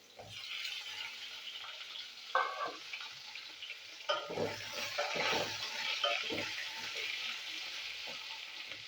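Long-cut potato strips for a fish curry fry in oil in a pan, a continuous close sizzle with bursts of louder crackle and scraping as they are stirred.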